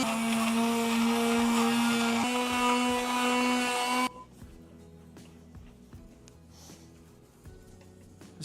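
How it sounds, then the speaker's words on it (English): Sanding at a workshop bench gives a loud, steady whining drone close by for about four seconds, then cuts off abruptly, leaving faint room noise and scattered light knocks. "Joel got back to work sanding."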